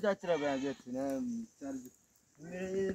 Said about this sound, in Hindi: और ये इनकी भेड़ बकरियां सारी इस तरफ को